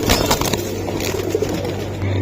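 Old-breed Bagha pigeons coo softly, close by, under a steady low hum and background noise, with a faint voice now and then.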